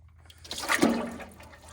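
Liquid gushes from a tractor's hydraulic oil sump with water mixed in, a short splashing pour that swells and then fades, close and moderately loud.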